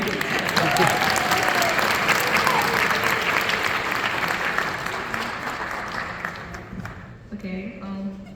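Festival crowd at a Groundhog Day event claps loudly and continuously for a girl's family, the applause tapering off after about seven seconds as a voice starts talking near the end.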